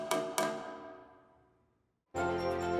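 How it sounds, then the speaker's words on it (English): A hammer taps a loose bolt on a new Hitachi train car twice, the strikes ringing and decaying into silence before a louder burst of different noise cuts in. "And this is the sound of a loose bolt."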